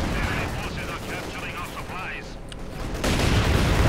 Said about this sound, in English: Oh, there's a lot of artillery over there.